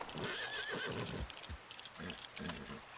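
An agitated Arabian horse in Red Dead Redemption 2 neighs and whinnies repeatedly while its hooves stamp and clop, loud and close throughout, with no talking.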